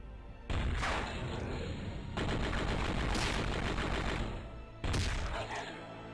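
Shotgun blasts and rapid gunfire from the Crazy Flasher 5 video game, loud and continuous in dense bursts with two brief pauses, filling the whole stretch without talk.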